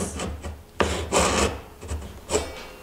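A Japanese hand saw cuts diagonally through a wooden tenon for a joined stool, giving rasping strokes in uneven bursts, close and fairly loud, with short pauses between pushes.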